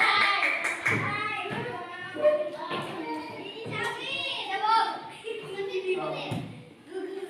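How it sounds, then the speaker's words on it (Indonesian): A short burst of classroom clapping, with children joining in during an Islamic religious education lesson, breaks out at the start and then gives way to a teacher and pupils talking. "Tepuk tangan."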